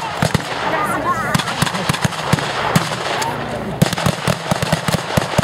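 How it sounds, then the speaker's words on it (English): M1 Garand rifles fire at a WWII reenactment, loud sharp shots cracking in an irregular stream with scattered distant pops, and a voice talks over the gunfire. "Notice the rate of fire of the Americans. The Americans are armed. With the M1 Garand rifle."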